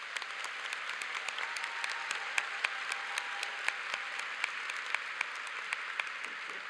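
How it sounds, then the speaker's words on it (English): A commencement audience applauds the faculty: steady, fairly distant clapping from a large crowd, with individual claps popping out over an even wash, no voices. "please join me in a round of applause for the faculty"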